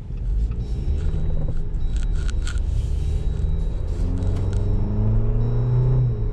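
Engine of a 2019 Jeep Wrangler Rubicon accelerating on the road, a steady, loud low rumble heard from the cabin that rises in pitch toward the end, with no talk.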